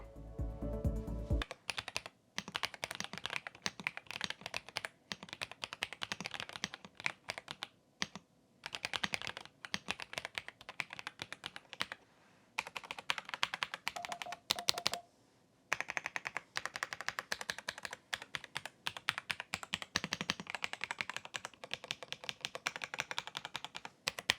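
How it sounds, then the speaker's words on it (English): Continuous rapid clacking of a Royal Kludge R75 mechanical keyboard being typed on, dense crisp keystrokes with short pauses, close and alone without voices. "let's do the sound check"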